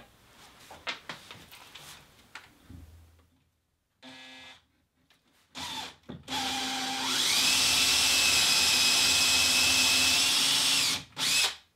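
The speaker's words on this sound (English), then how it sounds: "Now I take the small drill with 5 millimeters" Scattered handling clicks and a brief tool burst lead into a small 5 mm drill bit boring screw holes for a hinge, its motor whining steadily and loudly for several seconds before stopping and giving a short final burst.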